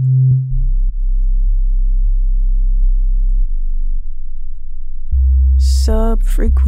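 Triangle-wave synth bass played in Reason 11, a deep sustained low tone holding several pitches in turn, starting with a short higher blip, with a brief higher melodic synth figure near the end.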